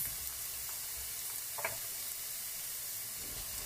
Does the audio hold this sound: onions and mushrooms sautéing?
yes